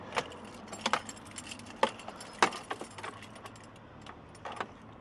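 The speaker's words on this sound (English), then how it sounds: "The ignition is on, as you can see. It's out of gear. Turn the key." Keys jangle in short metallic bursts as a motorhome ignition key is turned, with several sharp clinking clusters spread across the moment over a low idle background.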